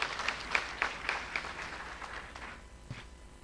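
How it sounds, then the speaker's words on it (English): Conference audience applause, a patter of individual claps with a few sharp accents, fairly quiet and thinning out after a couple of seconds. "So the team JIPMER deserve a big round of applause from your side."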